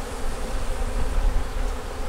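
Honey bees buzz thickly over an opened hive worked without smoke, the hum loud, close and continuous with a slight swell in the middle.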